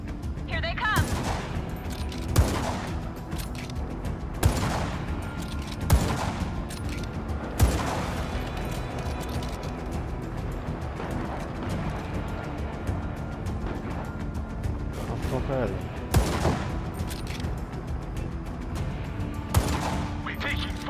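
Video game gunfire from Just Cause 3 rattles in repeated bursts over a continuous bed of battle noise, with sharper shots standing out every few seconds. Voices talk over the shooting.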